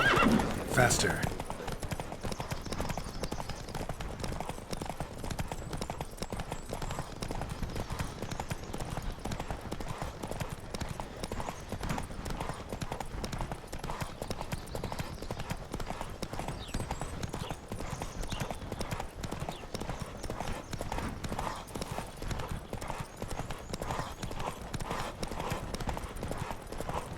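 Rapid hoofbeats pound in a steady galloping rhythm over a low background, with a whinny near the start and voices calling out, during a horse race in The Witcher 3: Wild Hunt.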